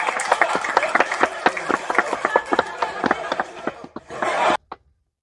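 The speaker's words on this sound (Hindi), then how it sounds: "जोरदार तालियों से इनका स्वागत किया जाए।" An audience claps for a performer being welcomed onto the stage at a village comedy and mushaira show: loud, dense, uneven handclaps that swell near the end, then stop abruptly.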